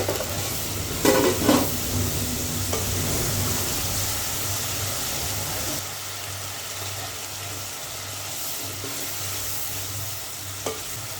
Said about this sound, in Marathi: थोडे थोडे पाणी टाकून मसाला व्यवस्थित परतून घेऊ